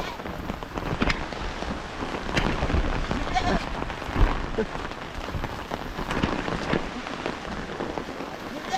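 Steady rain falls on a rural goat farm, a continuous broadband patter with scattered louder drops, moderately close; faint voices and possible animal sounds sit underneath.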